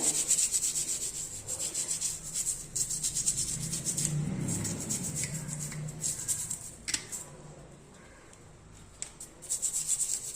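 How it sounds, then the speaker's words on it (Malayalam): An old toothbrush scrubbing a gas stove coated with Harpic, a continuous close, rough rubbing sound with brisk back-and-forth strokes that eases briefly before resuming. "ഇതുപോലെ പഴയ ടൂത്ത് ബ്രഷ് വെച്ചിട്ട് വേണം ക്ലീൻ ചെയ്യാൻ"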